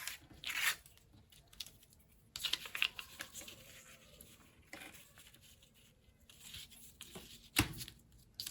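Brown paper is torn for a junk journal in several brief crisp rips spread across the stretch, close and moderately loud, with quiet handling noises between and no speech.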